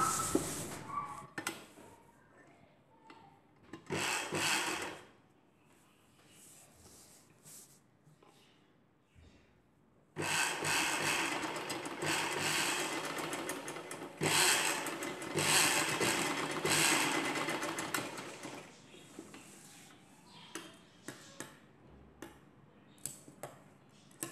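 A sewing machine stitches an Anarkali dress, running in bursts of rapid, steady whirring separated by quiet pauses, with occasional light clicks and handling noises between runs.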